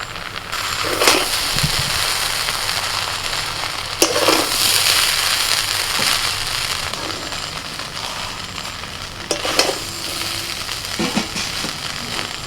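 Schezwan rice stirred in a pan with a little tomato sauce, a steady close sizzle broken by several sharp scraping and tapping strokes of a spatula against the pan at irregular intervals.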